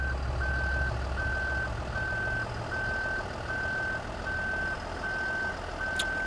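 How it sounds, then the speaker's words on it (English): A dump truck's reversing alarm in a demolition video game beeps steadily at an even pace over a low engine rumble, with a faint metallic squeak near the end. "Let's move the dump truck."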